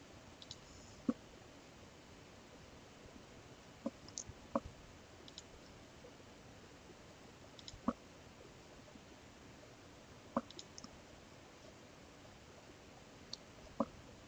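Sparse computer mouse clicks while working in a VMware ESXi datastore browser, isolated sharp single and double clicks spaced a few seconds apart over a quiet background hiss, no talking.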